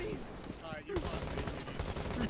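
Rapid gunfire in the Rainbow Six Siege video game, a dense crackle of automatic shots through most of the stretch, with players' voices mixed in.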